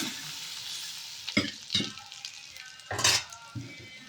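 Mustard seeds, cumin, garlic, turmeric and chilli fry in hot oil in a pan. Several sharp bursts of sizzling and crackling rise as ingredients hit the oil, mixed with stirring scrapes against the pan.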